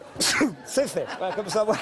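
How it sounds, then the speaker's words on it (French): A quick sneeze bursts out on a French television talk-show set, immediately followed by a person speaking and laughing. "Oh ben voilà, je suis en train d'éternuer."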